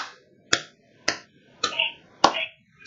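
Five separate sharp hand claps spaced about half a second apart in a slow, deliberate rhythm, close and clear with silence between them.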